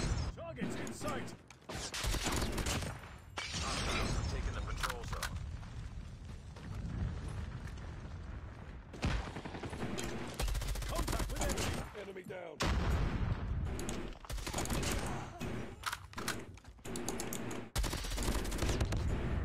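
Rapid bursts of automatic gunfire in Call of Duty: Mobile crackle almost nonstop, loud and close, with a few brief pauses and a voice talking over parts of it.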